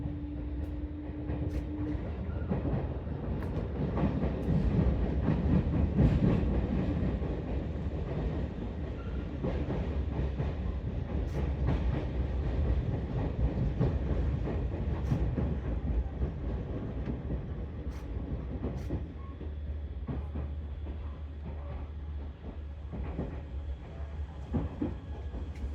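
A Seibu Railway train running on the Ikebukuro line makes a steady rumble with light rhythmic clicks and rattles, heard continuously for the whole stretch without talk.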